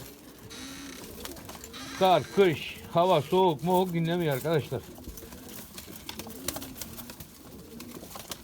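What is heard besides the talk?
pigeons cooing in coop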